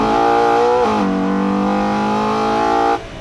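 A Ferrari Purosangue's front-mounted V12, paired with an 8-speed dual-clutch gearbox, revs hard and loud from close by, its tone dropping sharply once mid-rev before holding a steady howl and cutting off near the end.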